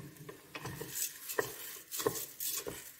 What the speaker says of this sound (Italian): Facciamo tostare il riso qualche minuto.